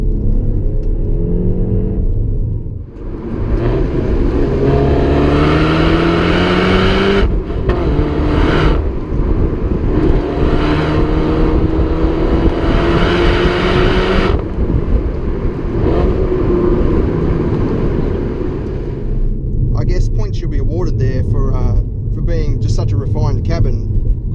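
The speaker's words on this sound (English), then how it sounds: "the exhaust sound out the back does sound really good. It's got a nice bark to it" A Peugeot 308 GTi 270 hot hatch accelerates, its engine and exhaust rising in pitch through several pulls with deep rumbling between them. The sound is steady and loud, with a voice speaking at times.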